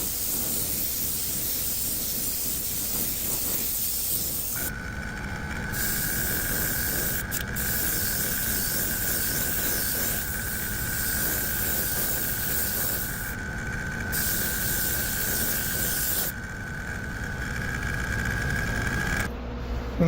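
An aerosol or airbrush sprays in bursts of hissing, laying a shiny blue top coat over a white base coat on a massive Japanese diving popper fishing lure, with a steady tonal whine behind the spray that stops and starts.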